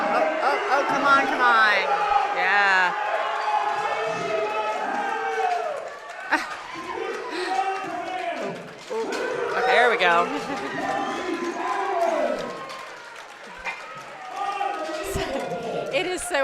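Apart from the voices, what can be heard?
loud crowd cheering at a powerlifting meet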